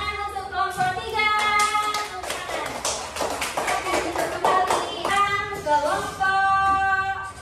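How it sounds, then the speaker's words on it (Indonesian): A group claps together in steady applause lasting several seconds, with voices chattering and calling out around it, in a teacher-training classroom in Palembang, Indonesia. "tepuk tangan untuk kelompok 3."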